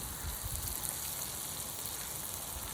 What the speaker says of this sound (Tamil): வெங்காயம் தக்காளி நல்லா வதங்கி வந்துடுச்சு இந்த அளவுக்கு வதங்கி வரணும் வெங்காயம் தக்காளி